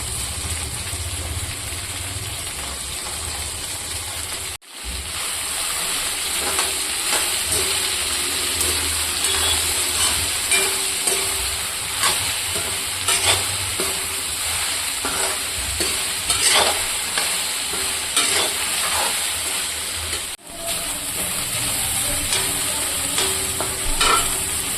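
Cut okra fries in a pan with salt and turmeric, a loud, continuous sizzle broken by scraping stirs throughout, with no talk.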